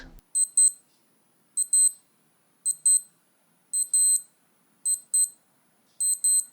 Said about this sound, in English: sometimes when the alarm goes off, you hear this sound